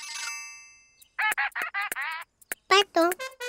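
A cartoon duck quacks in a quick run of short, bright, nasal calls following a brief chime, close and clear in a Spanish-language children's cartoon.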